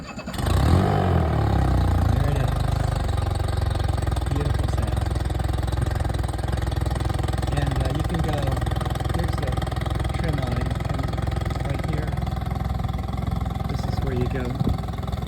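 A Tracker Marine 2011 Super Guide 16-foot V-hull boat's outboard engine turns over and settles into a steady, close idle, with a low continuous drone holding throughout while a person talks over it.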